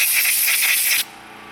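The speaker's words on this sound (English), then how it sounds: "Blow through those ports. Any ports or jets you've got." Compressed air blasts through the ports and jets of an old small engine carburetor: one loud, sharp hiss lasting about a second that cuts off abruptly.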